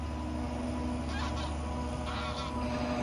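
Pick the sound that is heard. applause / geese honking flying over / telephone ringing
geese honking flying over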